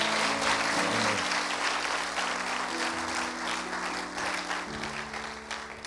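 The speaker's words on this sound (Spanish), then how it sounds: "Can we give a big round of applause?" A church congregation applauds during a bilingual service, a steady dense wash of clapping that holds loud and even for the whole stretch, with no voices over it.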